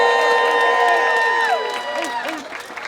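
A rally crowd outside City Hall at a pipeline protest claps and cheers, scattered whoops and voices over steady applause, with a loud tone sliding down partway through.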